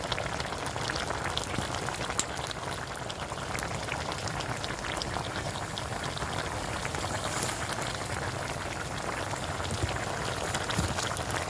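Steady rain falling and pattering on surfaces outdoors, a dense continuous hiss with scattered drops, constant and fairly loud throughout with no talking.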